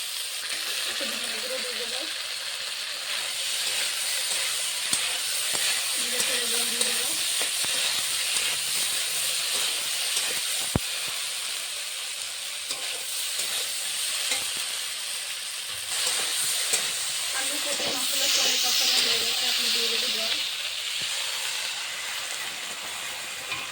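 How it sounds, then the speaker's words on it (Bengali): Water poured onto spices frying in a pan for a fish and potato-cauliflower curry sends up a continuous loud hiss of steam and sizzle that holds steady throughout, with faint bursts of talk underneath. "ভালো করে মশলা সুন্দর পাঠিয়ে দিয়ে জল দিয়ে দেবো"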